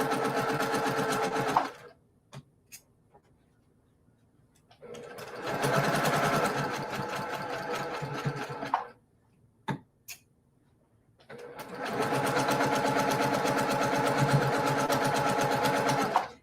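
A sewing machine stitches a quilt block, a steady mechanical whir running in three sustained bursts separated by quiet pauses with a few small clicks between them.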